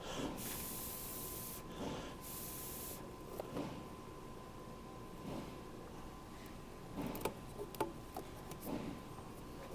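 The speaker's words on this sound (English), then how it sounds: "The spray adhesive is basically just to keep the foam in place" Two short, sharp bursts of aerosol spray adhesive hiss up close, for holding foam while upholstering a Rans aircraft seat, followed by quiet rustling and small handling clicks.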